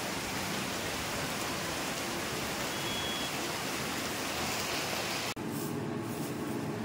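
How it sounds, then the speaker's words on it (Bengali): Heavy rain pours down in a steady, dense hiss that fills the whole stretch, with no voices, before cutting off abruptly near the end. "দেখো বৃষ্টি পড়ছে, দেখতে পাচ্ছ বেশ জোরে বৃষ্টি হচ্ছে"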